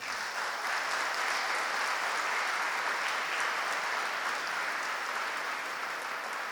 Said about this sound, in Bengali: জোরে হাততালি ঈশ্বরকে ধন্যবাদ জানাও।